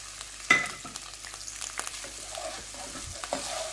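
Frozen peas and sweet corn stirred with garlic in a pan: a quiet steady sizzle with a sharp clink at the start, then soft scrapes and rustles of the spoon moving the vegetables, close up and without talk.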